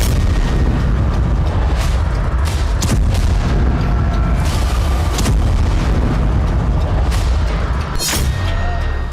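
Heavy, loud booms and blasts over sustained gunfire and artillery-like rumble during fighting in Sudan, with an explosion in the sky as an aircraft is shot down; dense, continuous roar with sharp bursts near 3, 5 and 8 seconds.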